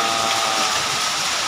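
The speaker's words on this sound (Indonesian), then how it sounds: "Hujan malam ini Mike ya." Night rain falling on a street by Pasar Baru in Sibolga, a dense, constant hiss of drops that fills the space at close range, with no voices and no breaks.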